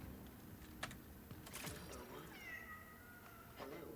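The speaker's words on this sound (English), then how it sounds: "Oh, a cat." A video game cat meows a few times at moderate distance, short rising calls amid faint clicking and ambient game noise, with no talk over it.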